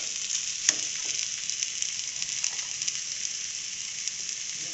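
Potato kachori filling, seasoned with salt and coriander leaves, stirred in a hot pan: a steady close sizzle with faint spoon scrapes and one sharper clack near the start, no voices.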